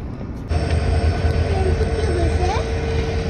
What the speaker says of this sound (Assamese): এইটো ট্ৰেইন লাইন ট্ৰেইন গৈ আছে